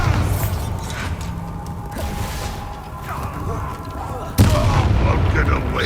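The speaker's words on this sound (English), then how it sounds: "Confringo. Bombarda." Bombarda spell explosion in the Hogwarts Legacy video game (PS5), a sudden sharp boom near the end over continuous game battle noise, rumble and spell effects.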